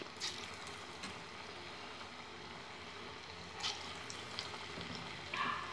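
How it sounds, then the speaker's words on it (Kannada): Small bondas frying in hot oil, a soft steady sizzle with occasional faint bubbling pops, quiet and continuous throughout. "ಒಂದೊಂದೇ ಚಿಕ್ಕ ಚಿಕ್ಕ ಬೋಂಡ ಬಿಡ್ತಾ ಹಾಕ್ತೀನಿ ಇದರಲ್ಲಿ."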